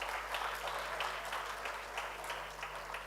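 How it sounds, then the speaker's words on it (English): An audience at a live-streamed event applauds a panel member being introduced, steady continuous clapping from a crowd, moderately distant and even throughout. "Sir, let's have a huge round of applause,"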